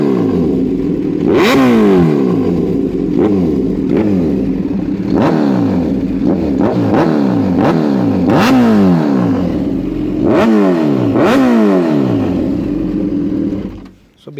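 A Kawasaki Z1000 motorcycle fitted with a full Arrow exhaust system revs repeatedly up close, sharp throttle blips rising and falling over a loud, rumbling idle.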